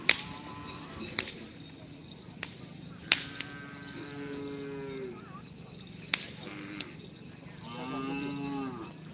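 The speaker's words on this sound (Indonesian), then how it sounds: "Ini ada sapi besar." Large cattle at a Karapan Sapi bull race in Indonesia give several short moos spread through the clip, with sharp cracking snaps between them over outdoor crowd noise.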